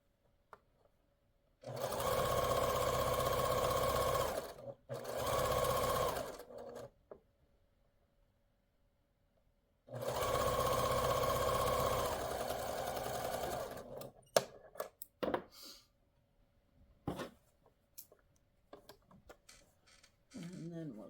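A sewing machine stitches quilt block pieces cut from 10-inch squares, running in two long close bursts with a short one between and separated by pauses, loud and steady, followed by scattered clicks and handling sounds.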